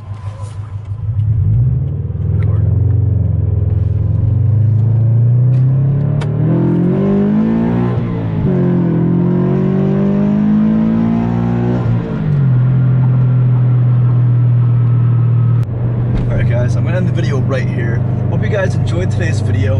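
A Subaru BRZ driving on the road, its engine rumbling steadily and rising and falling in pitch as it accelerates and shifts, loud and close for most of the stretch.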